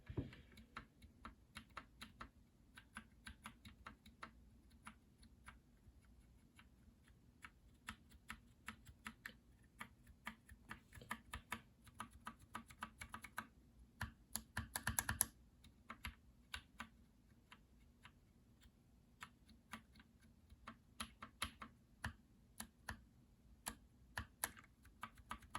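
Typing on a keyboard fitted with NovelKeys Blueberry hybrid switches, with uneven bursts of close, sharp clicks and clacks separated by short pauses.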